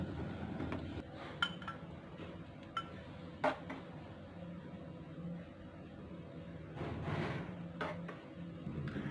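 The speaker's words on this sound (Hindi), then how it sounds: "अब हम इसका फ्लेम ऑफ कर देंगे और इसे किसी बर्तन में निकाल लेंगे" Freshly cooked badami kheer is ladled out into a bowl, with quiet clinks and knocks of metal utensils against cookware over a low background hum.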